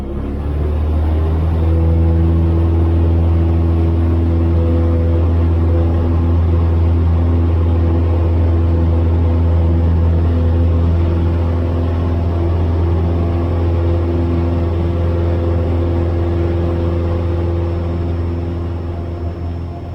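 Steady, loud drone of a Cessna piston engine at a Lynden, Washington airpark, holding a constant low hum with harmonic tones for the whole stretch, close and without talk.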